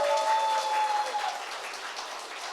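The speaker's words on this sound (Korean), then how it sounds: "여러분 동의하시면 박수 크게 한번 보내주십시오" Applause from the audience at a book launch event in Gwangju, a broad steady patter of clapping that starts full and gradually thins and softens over a couple of seconds, with no voices over it.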